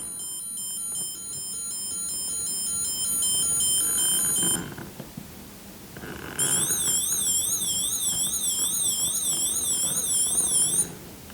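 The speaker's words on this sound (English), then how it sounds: "So you've got a choice of two sirens, and it's really not that loud." Lego 6450 Mobile Police Truck toy from 1986 sounds its two electronic sirens: first a steady high beeping tone, then after a short gap a fast warbling wail. Both are thin and quiet against a faint background hiss, with no voices.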